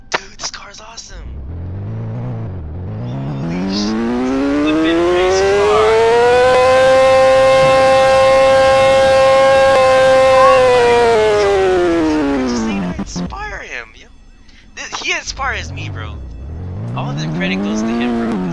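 A car engine in a driving video game climbs in pitch, holds a long high whine for several seconds, then drops off before revving up again, loud and close, with voices talking around it.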